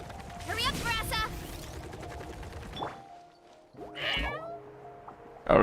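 A cat meows a few times in the Genshin Impact video game over music and game sounds, with a voice speaking at times.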